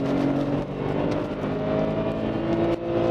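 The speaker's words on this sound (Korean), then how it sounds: "제가 극가속을 한번 해볼게요." A BMW E60 528i revs hard under full acceleration, its engine droning loud and steady with harmonic tones that climb and shift; the car is burning oil and running rough, and no one speaks over it.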